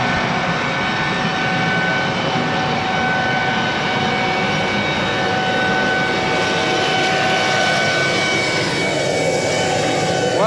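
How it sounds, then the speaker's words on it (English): A tractor's planter blower runs steadily through a bean field, a loud continuous whine-and-roar with a constant mechanical drone and no pauses, close by and alone without talk. "I could have shut off that blower so it wasn't so noisy out here"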